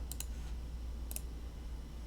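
Two quick pairs of crisp clicks from a button being pressed during late-night development work, spaced about a second apart over a steady low hum.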